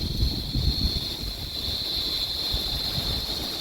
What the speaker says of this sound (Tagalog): Yan, tapos mahangin.